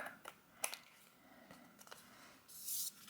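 Paper scissors trim the overhanging edges of a handmade card, with faint, scattered snips and light rustling, quiet and close with no talk.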